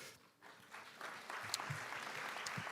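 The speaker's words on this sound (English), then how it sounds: "A huge round of applause, not just for the last, but the first, the middle, all of the great commitments you heard" An audience at a youth climate summit gives a round of applause, with soft scattered clapping that builds into a fuller, steady sound from a hall crowd.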